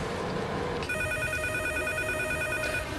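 A telephone starts ringing partway through, a steady electronic bell tone that holds loud and continuous to the end over a faint background hum.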